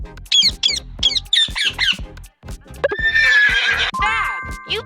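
A loud, close horse neigh rises and whinnies over clip-clopping hooves in a children's animal-sounds game, followed by a bright chime.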